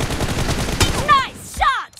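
Gunfire in the mobile shooter BGMI during a team deathmatch, a rapid burst of shots with a sharp crack near the middle, then fading echoes under brief voices.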